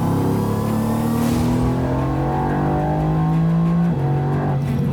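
A Mercedes-AMG GT R engine, 585 horsepower, revs loudly and continuously, pitch climbing steadily, then dropping briefly at a gear shift before rising again.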